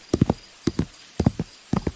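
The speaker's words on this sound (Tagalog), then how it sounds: "tila bumabagal ang paglalakad ng kabayo" Horse hooves clip-clop at a slow walking pace, groups of two or three hoofbeats repeating steadily, fairly close and clear.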